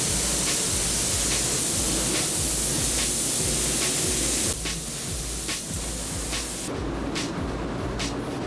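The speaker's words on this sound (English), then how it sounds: "the naked Truno was in the spray booth ready for the new war paint to go on" A spray gun hisses steadily in a spray booth while paint goes onto a stripped Toyota Sprinter Trueno. The broadband rush is continuous and loud, runs over a thumping backing beat, and eases slightly partway through.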